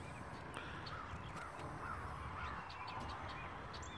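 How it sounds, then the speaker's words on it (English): Crows caw repeatedly outdoors in the snow after a spring snowfall, their calls faint and somewhat distant over steady background noise, and no one speaks. "All these damn birds come back from damn hibernation thinking they gonna have some food."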